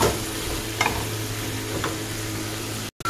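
Shrimp and vegetables for fajitas stirred with sauce in a hot skillet, a steady sizzle with a few scraping strokes of a utensil, close and continuous, no voices.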